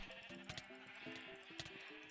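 A sheep in Minecraft bleating in a quick wavering series of nasal cries, faint and close, with a few soft clicks between.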